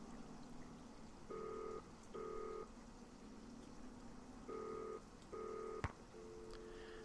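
A calling card number is dialed on a telephone in the video game Nancy Drew: Danger by Design, producing clear, separate touch-tone beeps in short groups over a faint background hum, with no talking.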